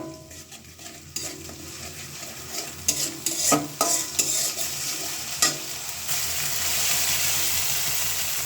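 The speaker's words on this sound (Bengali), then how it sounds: "একটু ভালো করে কষিয়ে নেব যাতে পেঁয়াজ রসুনের গন্ধটা না থাকে" Onion, garlic and spices being stir-fried in oil for a village-style fish and greens dish, with close sizzling under repeated spatula scrapes and clinks against the pan, the frying hiss swelling toward the end.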